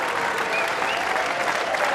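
Crowd at a Weber Cup bowling event in the Metrodome, Barnsley, cheering and applauding in a steady, dense roar of clapping and shouts that fills the whole stretch.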